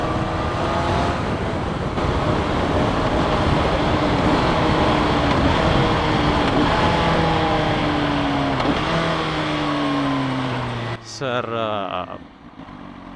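A CFMOTO 750SRS motorcycle, around 200 kg, pulls steadily with rising engine tones that dip as gears are shifted, the drone loud and continuous until it fades near the end, with a short spoken remark over it.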